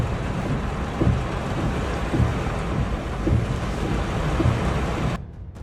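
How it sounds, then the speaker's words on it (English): Heavy rain pours in Okinawa as a dense, continuous roar, with low thunder rumbling at intervals underneath before the sound cuts off abruptly near the end. "This was the heaviest rain in Okinawa in June in 100 years."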